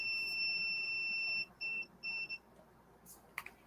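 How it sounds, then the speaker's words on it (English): Steady high electronic beeping tones, a long continuous tone followed by several short on-off beeps, fairly clear over a quiet background. "And that's going to start beeping again"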